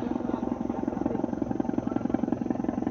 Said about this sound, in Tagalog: Helicopter mga idol.